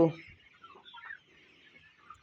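Hens on a poultry farm during the rainy season give a few soft, close clucks in quick succession, fairly faint against a quiet background.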